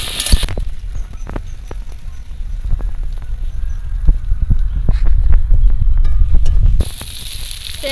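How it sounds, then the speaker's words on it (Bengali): Chopped onions fry in a pan for a Bengali crab dish, giving a steady crackling sizzle with scattered pops, loud and close throughout with no talking. "এবার দিয়ে দেবো পেঁয়াজ কুচি। একটু ভালো করে ভেজে নেব।"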